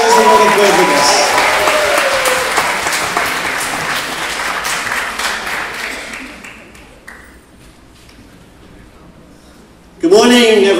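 Applause from a church congregation fills the room, loud and sustained with scattered cheering, fading out over several seconds before a voice begins speaking at the end.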